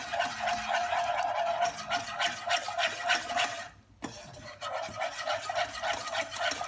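A spoon or whisk works milk into a roux for béchamel in a pan, giving a steady, close scraping and rubbing rhythm that briefly stops partway, then resumes at a moderate level.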